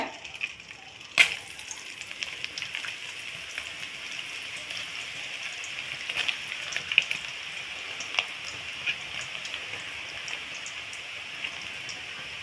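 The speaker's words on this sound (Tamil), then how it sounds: "மாவை வந்து எண்ணெய் சட்டியில் பிழிஞ்சு விடுறப்போ அடுப்பை வந்து கம்மி பண்ணிக்கோங்க" Potato dough squeezed into a pan of hot oil deep-frying with a steady crackling sizzle, dense with fine popping bubbles throughout and one sharp louder splash near the start.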